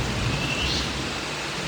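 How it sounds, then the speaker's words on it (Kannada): Heavy rain pouring outside a resort room in Munnar, with thunder rumbling underneath: a dense, steady wash of noise, loud and continuous across the whole stretch, with no talk. "ಫುಲ್ಲು ಮಳೆ ಇದೆ"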